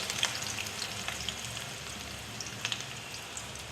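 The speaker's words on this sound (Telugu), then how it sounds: "ఉల్లిపాయలు సాఫ్ట్గా వేగేంత వరకు వేయించుకోవాలి" Onions sizzle steadily in hot oil with whole cloves, cardamom and a bay leaf for an aloo kurma, a soft continuous frying hiss with small scattered pops.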